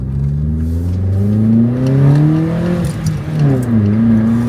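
A Vauxhall Corsa with an aftermarket air filter and exhaust pulling away, its engine note loud and close, rising and falling through a couple of revs with a throaty growl.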